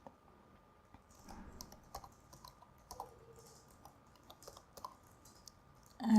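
A password is typed on a computer keyboard in an online training webinar. Soft, irregular clicking keystrokes run under a faint steady hum and low background noise, and a louder sound swells at the very end.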